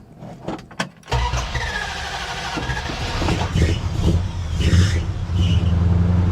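A Mopar engine cranks and catches, then runs loudly at a steady idle with a high whine from loud belts riding over the low rumble.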